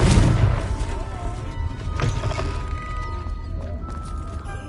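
A Confringo fire spell detonates in Hogwarts Legacy, a loud close booming blast at the start that fades into a rumbling, crackling tail with faint mechanical tones, alone without speech.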